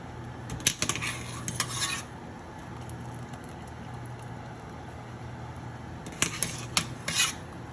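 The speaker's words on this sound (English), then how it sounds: "So now I'm adding the halfway cooked chickpea pasta." Half-cooked chickpea pasta being spooned into a baking dish with broccoli: two bursts of scraping, clinking utensil-on-dish clatter, near and moderately loud, separated by a quieter stretch.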